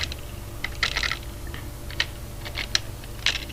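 Light tapping on a computer keyboard while entering an appointment booking for the Boulogne sub-prefecture, a sparse, irregular scatter of soft key clicks over a steady low background hum, with no voices.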